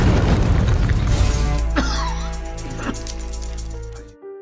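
A car bomb explodes at a prison in a film, opening with a heavy, rumbling boom that decays into a long, ringing tail, with debris or sharp crackles scattered through the fading roar.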